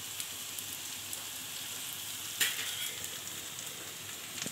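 Rice frying in hot oil and ghee in a pan, a continuous faint crackling hiss like light rain with one brief louder pop, close and steady, with no voices.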